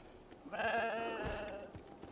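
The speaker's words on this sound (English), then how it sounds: "Oh hey, goat." A goat in Genshin Impact lets out a single drawn-out, wavering bleat, clear and fairly close against quiet game ambience.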